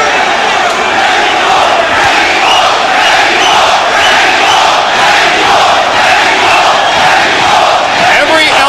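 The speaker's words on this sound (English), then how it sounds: "Every element of crowd noise you hear, the chants, the cheers, the spontaneous eruptions" A packed boxing arena crowd at the Erik Morales versus Junior Jones fight roars continuously, loud, sustained cheering and rhythmic chanting filling the space without a break.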